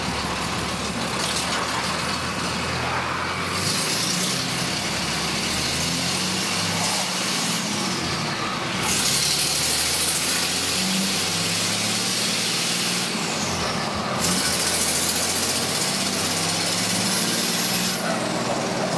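A Cummins dually diesel pickup engine with an exhaust leak, heard up close as a steady loud rumbling drone with hissy high-end noise and a few brief shifts in pitch, no talking.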